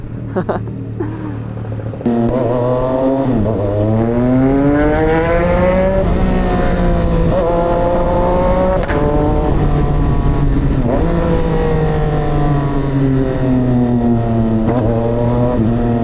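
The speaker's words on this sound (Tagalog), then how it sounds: "Palakasan sila ng backfire." Loud motorcycle engines rev and drone continuously, with sharp popping exhaust backfires breaking through, while people talk over the noise. Includes a CFMOTO 675SR-R with an Orion full-system exhaust.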